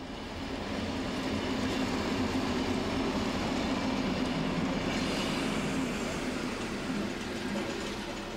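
Diesel locomotive 212 138 hauls the glass train toward Trossingen, a steady heavy rumble of engine and rolling wagons with clattering wheels, loud and close throughout without pause.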